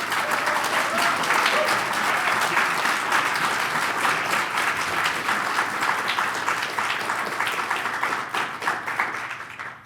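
An audience at an academic lecture applauds to welcome a speaker to the stage, dense continuous clapping from a large crowd that holds steady for nearly ten seconds before tapering off.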